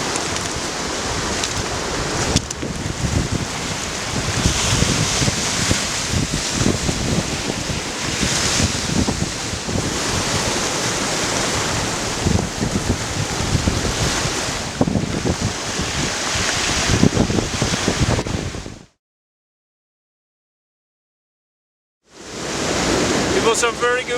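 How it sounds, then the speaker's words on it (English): Ocean waves surging around rocks on the Norwegian coast at sunset, a loud continuous wash of surf with wind buffeting the microphone, cutting to silence near the end before the surf briefly returns. "I got some good motion in the waves around the rocks"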